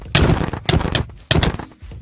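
Gunfire in a PVP video game: three sharp, loud bursts of shots in quick succession, each a booming crack with a short rumbling tail, close and punchy.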